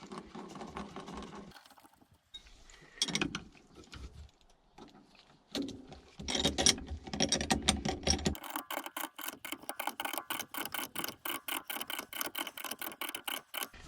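Ratchet tightening nuts on the rear shock mount of a BMW E87, scattered clicks and handling noise at first, then a steady run of fast, even ratcheting clicks that carries on to the end, close and moderately quiet.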